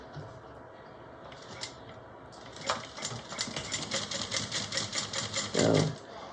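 A sewing machine stitches fabric for a small bowler bag, starting with a few slow isolated stitches before running into a rapid, even rattle of needle strokes, ending with a short louder thump.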